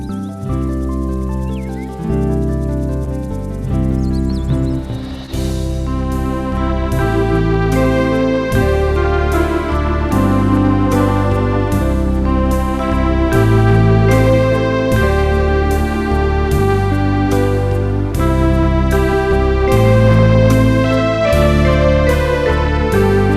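An electronic keyboard plays a slow, lush chord progression with sustained string pads and bell-like vibraphone tones, steady and full throughout.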